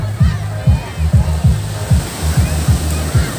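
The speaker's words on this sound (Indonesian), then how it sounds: "Ombaknya besar sekali." Large ocean waves at Budi beach in Nabire give a broad wash of surf behind a regular, low thumping pulse that repeats about twice a second throughout.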